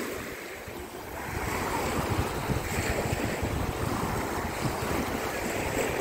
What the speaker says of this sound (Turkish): Biraz da deniz sesiyle baş başa bırakalım.